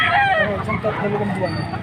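A rooster of about fourteen months, sold for 2,500 at a livestock auction market, crows and clucks close by while people talk over the calls.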